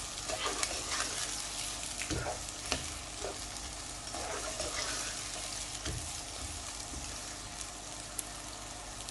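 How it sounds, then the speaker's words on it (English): Onions frying in hot oil for a potato and pea curry, with a steady close sizzle broken by several sharp scraping knocks as they are stirred, and no talking. "We're just going to add the onions and then just stir that in."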